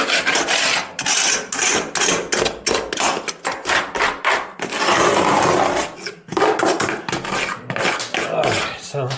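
A 5-in-1 painter's tool scrapes an interior wall during house painting: rapid repeated rasping strokes, loud and close, in rhythmic bursts with a brief pause, and no talk over them.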